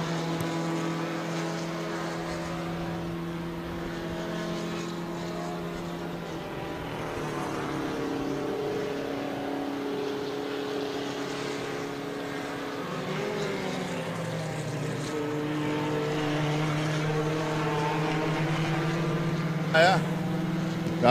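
Race cars, car number 20 among them, run a track at a classic car racing event. Their engines make a steady drone that rises and falls in pitch at mid distance, under a commentator's talk.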